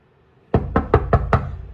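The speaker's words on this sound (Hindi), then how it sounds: "दरवाजा नॉक करता हूँ।" Five sharp knocks on a door land in quick, even succession after a quiet moment, close and loud.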